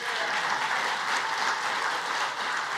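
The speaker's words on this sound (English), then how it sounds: "give me a round of applause." An audience at an African and Caribbean trade and investment forum breaks into sustained, dense applause, a steady wash of clapping from a large crowd, heard alone without speech.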